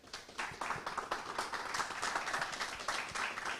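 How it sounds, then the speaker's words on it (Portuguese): An audience welcomes a guest onto an entrepreneurship interview program with a round of applause: individual claps stand out clearly at first, then thicken into continuous, moderately loud clapping. "Eu queria que você recebesse com uma forte salva de palmas, Edmar Monté."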